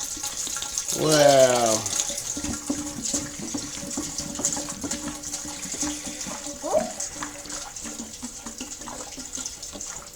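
About two litres of Star San sanitizer solution splashes and gurgles as it is poured into a keg, a steady watery rush with faint bubbling, while a voice briefly exclaims over it.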